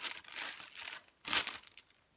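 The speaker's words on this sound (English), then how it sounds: "Then I'm going to put my plastic bag over the top" A plastic bag is pulled over a sweet pea seed pot, giving near, soft crinkling in two bursts, the second sharper and louder.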